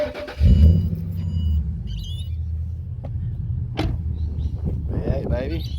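A Ford XR8 V8 with Pacemaker extractors and twin exhaust cranks and fires up, settling into a deep, loud rumbling idle close by, with a few brief background noises over the steady low throb.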